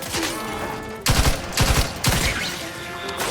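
Bursts of rapid gunfire from The Outer Worlds 2, three loud fusillades about half a second apart, each one a fast rattling run of shots sitting over a steady game background, with no speech.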